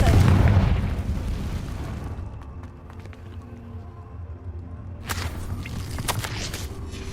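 Confringo fire spell exploding in Hogwarts Legacy: a heavy booming blast at the start that decays into a rumbling tail, followed by scattered crackles and a second burst of sharp impacts later on.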